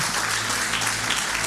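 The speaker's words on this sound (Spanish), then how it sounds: "Un aplauso de victoria." A church congregation applauding during a Spanish-language worship service, a dense, continuous roar of clapping that stays loud and even throughout the brief moment, with a low hum underneath.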